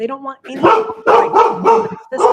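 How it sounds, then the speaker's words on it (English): Several dogs bark in loud bursts, about four barks in a row at close range, over and between a woman's speech. "Pardon the dogs Oh, that's barking."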